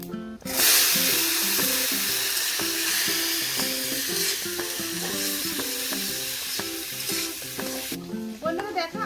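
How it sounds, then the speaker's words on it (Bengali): Potatoes and panch phoron hit hot oil in a village kitchen pan, bursting into a loud hiss that settles into constant sizzling under a steady rhythmic musical backing; nobody talks. "ফোড়নে দিয়ে দিচ্ছি পাঁচফোড়ন আর আলু।"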